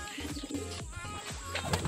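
Racing pigeons coo in low, repeated throaty rolls close by, several birds overlapping in a quiet loft setting.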